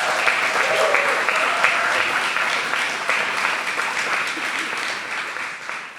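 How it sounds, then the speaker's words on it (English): A live audience at a climate-week talk on seaweed gives a warm round of applause, dense steady clapping that gradually tapers off over several seconds, with no speech on top. "Can we give Nicholas and Alexis a big round of applause?"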